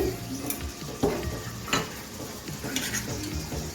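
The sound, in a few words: chopped tomato and green chilli frying in pan with spices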